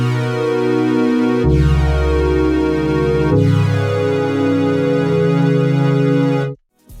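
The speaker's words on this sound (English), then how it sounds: "this is what the chords sound like by themselves." Basic piano chords programmed in FL Studio play alone, three sustained chords changing in sequence, loud and clean, then cut off abruptly near the end.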